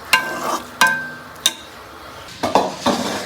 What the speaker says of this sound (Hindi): अब हम इसको डिश आउट करके दिखाते हैं आपको